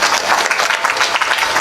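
A crowd applauds at a gathering, dense rapid clapping from many hands that stays loud and continuous throughout, close and without pauses.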